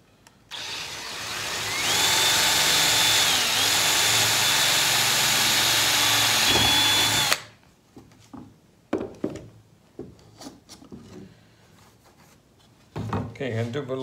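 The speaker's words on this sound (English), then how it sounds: "So be drilling that hole through there, drilling the hole through here." A power drill bores a hole through a wooden worktable sawmill part, a loud steady whine running about five seconds before stopping, followed by scattered knocks and handling clatter.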